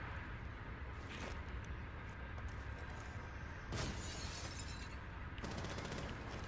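Window glass shattering in the video game Rainbow Six Siege, faint and distant, with a few muffled crashing bursts spread across a steady low background rumble.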